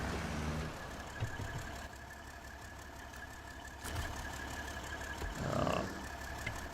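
A Kenworth C500 truck engine idles in a video game, a low, steady rumble at moderate volume with slight swells.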